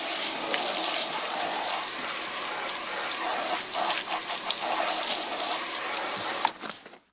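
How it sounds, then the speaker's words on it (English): Hose water in a steady showery spray rinsing foam off a new Porsche GT3 RS, a broad continuous hiss of splashing water that runs nearly seven seconds before cutting off abruptly. "sloshed out with a showery stream of hose water"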